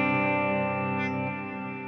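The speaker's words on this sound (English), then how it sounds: "Then you can bring up the level of the reverb." Clean electric guitar with the reverb level raised, a sustained chord ringing out in a long wash of reverb that slowly fades, with no other sounds.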